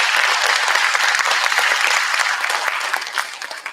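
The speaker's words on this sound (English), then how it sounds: "Yes, we can clap for them." Audience applause for graduating seniors at a theater department awards night, a full, steady clapping from a crowd that thins slightly toward the end.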